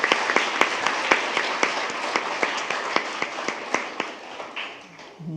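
A board meeting audience gives a round of applause to its Employees of the Month: steady, moderately loud clapping with distinct individual claps that tapers off toward the end.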